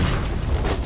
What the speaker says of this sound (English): it gives us a chance to do sort of ancient exploding barrels